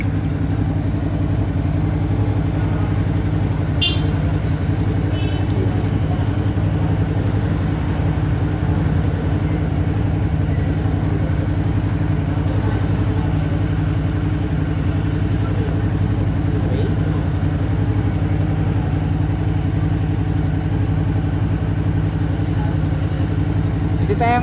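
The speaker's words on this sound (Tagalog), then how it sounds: "test ride tayo dito sa may V-Strom 650" A Suzuki V-Strom 650 motorcycle on a city test ride, its engine droning steadily and close throughout with a low, constant rumble and road noise.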